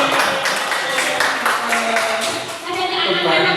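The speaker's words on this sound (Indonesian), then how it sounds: "Tepuk tangan." Scattered audience clapping in a school training session, a loose rhythm of claps that thins out toward the end, heard close in a room with voices faintly underneath.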